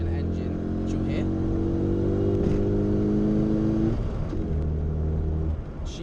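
A 2000 Rover Mini with a stage 1 tuning kit on its 1.3 multi-point injection engine, idling then revving steadily in a sustained, close, loud drone that drops back down near the end.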